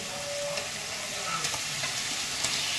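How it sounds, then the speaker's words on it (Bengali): Pointed gourds go into hot, spiced oil that has already cooked down, giving a steady close sizzle with faint stirring scrapes throughout. No one speaks. "এবার আমি পটলগুলো দিয়ে দিচ্ছি।"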